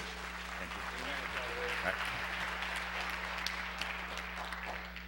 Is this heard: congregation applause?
yes